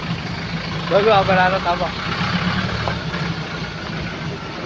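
A vehicle's engine idles in a low, steady rumble as it is repositioned, while someone speaks briefly over it near the start.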